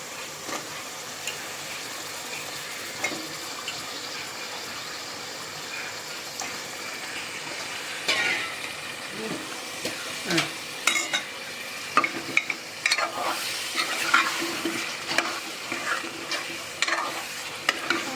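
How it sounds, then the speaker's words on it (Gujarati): Vegetables tossed into cooked masala in a pan, with steady sizzling and frying plus repeated scraping and stirring strokes that grow busier and louder toward the end, no talking. "હવે એમાં આપણે શાક નાખીએ"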